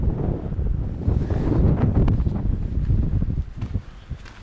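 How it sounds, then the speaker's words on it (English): Strong desert wind gusts across Joshua Tree National Park near an old gold mine, making a loud, steady rushing roar that buffets the microphone for the whole stretch, with no voices. "So the wind is again increasing here"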